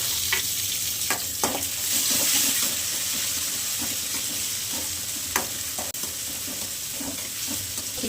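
Tomatoes tossed into a pan with green chillies frying in oil give a continuous sizzle, broken by scattered clinks and scrapes of stirring.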